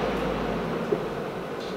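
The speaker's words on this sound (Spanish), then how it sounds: "Este sonido que se escuchó es del compresor." A Julabo CORIO CD-900F water recirculator's compressor runs during cycling, giving a steady close low hum under broadband hiss for the whole stretch, with no talking.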